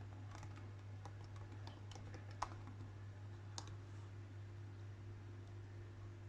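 Computer keyboard keys tapped while a password is entered on a Mac, a sparse handful of soft clicks with two sharper taps, over a steady fan hum and low background hiss.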